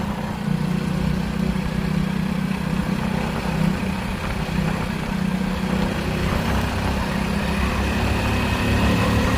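A vehicle engine drones steadily as the car speeds along a rural road, a constant low hum joined by broadband road and wind noise, with no talking.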